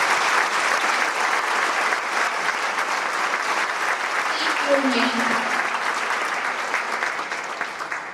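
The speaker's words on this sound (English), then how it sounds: "let's give them and our models a big round of applause" Sustained applause from a large crowd, dense and even clapping that fills the room, with a brief voice faintly audible beneath it.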